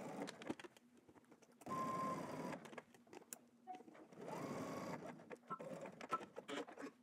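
Home sewing machine running a straight stitch along a vertical knit seam for a McCall's 8339 garment, quiet bursts of whirring motor separated by pauses and light handling noises.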